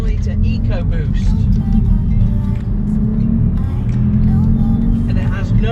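Ford Focus hatchback with a 1-litre three-cylinder EcoBoost petrol engine accelerating, a steady loud low engine drone with road noise heard from inside the cabin, continuous throughout.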